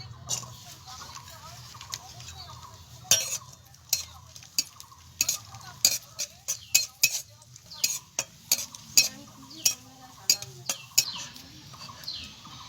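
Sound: raisins frying and being stirred in oil

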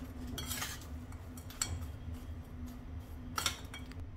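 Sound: mixing mishri into panjiri with a spoon

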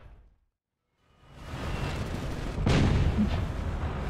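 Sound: tank gunfire in a video game

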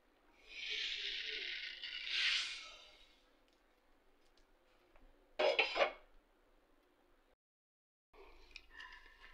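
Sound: pouring roasted coriander and cumin seeds onto newspaper

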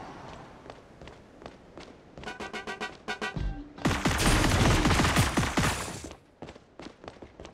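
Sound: walking barrage gunfire, Marvel Super War video game

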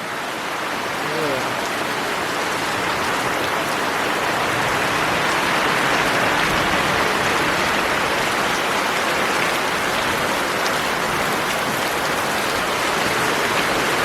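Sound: heavy rain shower

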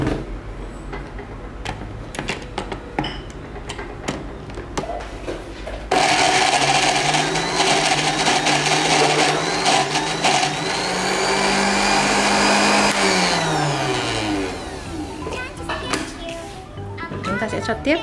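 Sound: blender grinding gac fruit pulp

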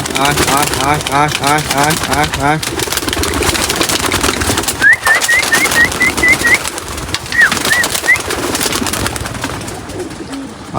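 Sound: pigeons cooing and flying

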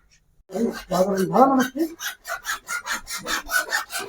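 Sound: cutting a pipe

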